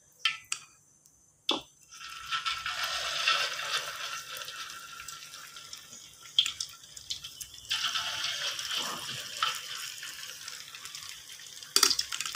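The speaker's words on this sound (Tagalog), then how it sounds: "iprito natin yung jumpo-jumpo na laman natin" Jumpo-jumpo lemak filling frying in hot oil in a home kitchen, a steady close sizzle and crackle with brief quiet gaps and occasional sharp pops or stirring scrapes.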